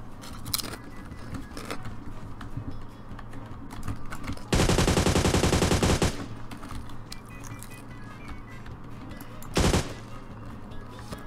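Automatic gunfire in a PUBG Mobile match: one loud, rapid burst lasting over a second, then a shorter burst later, with quieter game sounds in between.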